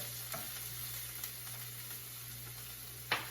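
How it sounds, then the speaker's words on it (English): Onions sizzle softly in a pan under a steady, quiet hiss, with a few brief clinks and scrapes as they are stirred and no voices. "after about a minute or two, give the onions a nice good stir"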